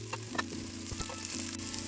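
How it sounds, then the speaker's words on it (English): Onions frying in coconut oil in a pan, a steady low sizzle with a few light scrapes and taps, close and continuous, no talking. "I do notice that the onions are getting a little touched at the bottom. So I'm just going to go ahead and put a little bit of coconut oil"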